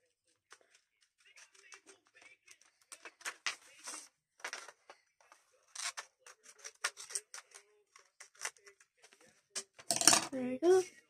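Scissors cutting through folded paper, a series of quiet crisp snips and rustles building to a louder clattering burst near the end, close by, with a voice speaking briefly in the background.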